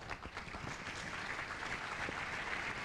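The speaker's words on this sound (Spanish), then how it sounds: "Un fuerte aplauso." A crowd claps steadily throughout, a dense, even wash of applause at moderate distance.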